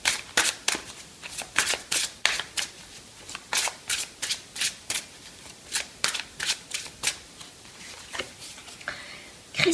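Tarot message cards shuffled by hand in a quiet room, a crisp riffling patter repeated in short regular bursts, close and alone with no talking.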